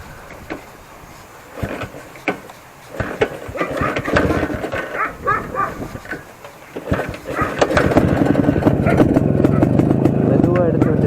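A 1982 Yezdi D250 classic 250cc motorcycle, a bike said to run on petrol or diesel, is started after a stretch of talk and clunks, its engine catching and settling into a loud, steady, close running note.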